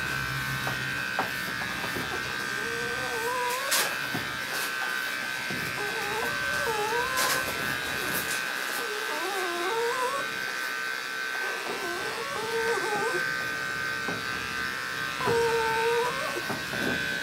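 An electric dog grooming clipper runs with a steady mechanical buzz throughout, its pitch wavering as it works over an aggressive dog's coat, with faint voices underneath.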